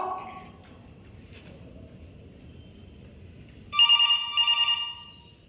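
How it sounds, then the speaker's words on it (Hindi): A telephone rings in a dramatized indoor scene from a theatre group's film production. After a quiet stretch, two short, loud bursts of ringing arrive close together near the end, with no one speaking over them. "तंग आ चुका हूं ये फोन की टिंग सुनकर।"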